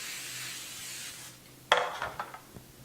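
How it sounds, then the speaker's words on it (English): Cooking spray hisses steadily from a can onto a baking pan for about a second in a home kitchen, then a sharp clatter and a few lighter knocks of the pan follow. "I'll spray my baking pan."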